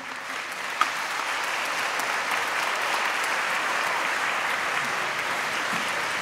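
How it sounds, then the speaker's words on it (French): Audience applause for the conductor at an outdoor wind band festival concert, a broad, even wash of many hands clapping, moderately distant and sustained without break. "Merci de l'applaudir."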